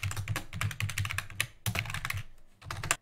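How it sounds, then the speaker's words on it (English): Rapid, close clicking of computer keys during typing, with quick bursts of keystrokes separated by short pauses and a heavier key press near the end, fairly quiet with no voices. "And then I hit enter and start to type the next one."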